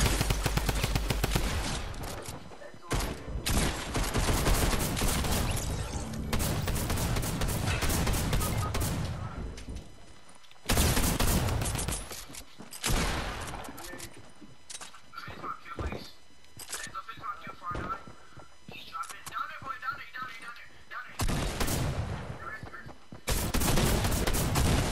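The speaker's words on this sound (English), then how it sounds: "I'm getting shot at." Rapid bursts of gunfire in a video game arena match, loud and repeated in clusters with short gaps between volleys, heard over talking players.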